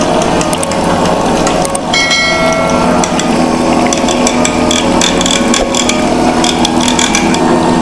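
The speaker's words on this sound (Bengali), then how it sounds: "এই যে আমাদের ক্রিম সেপারেটর মেশিন, দেখেন এই যে ক্রিম করতেছে।" A manually operated cream separator spins milk to skim off the cream, giving a steady loud mechanical whir with rapid ratcheting and gear clatter throughout, no talking.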